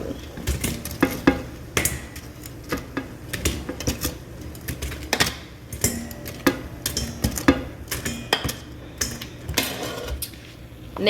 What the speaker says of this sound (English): we're gonna put the wings in the bowl